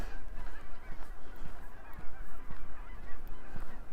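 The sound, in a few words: geese honking while flying around a snowy lake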